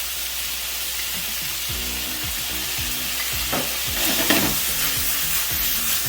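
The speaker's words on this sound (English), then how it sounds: "Continue the stir fry process." Chicken and vegetables stir-fry in a pan with a loud, constant hiss of sizzling oil, while a spatula scrapes and clatters repeatedly through the food.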